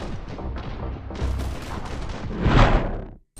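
Rapid booming gunfire and explosions from a Nintendo Switch action game, a continuous dense barrage that swells to a loud burst near the end before cutting off abruptly.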